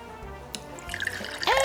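Water poured into a martini glass used as a vase, a short trickle and splash building to a louder filling pour near the end, close and alone.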